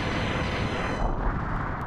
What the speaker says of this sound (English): Zero use Explosion!